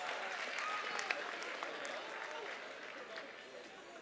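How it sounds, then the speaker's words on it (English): An auction crowd at a horse sale bursts into sustained applause after a winning bid, a dense clapping wash with a few sharper claps and voices murmuring underneath. "Ladies and gentlemen, can we have a huge round of applause for"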